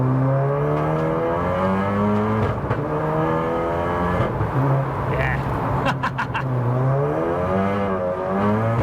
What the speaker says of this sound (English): just a quick cruise out in the car, give it a bit of a shakedown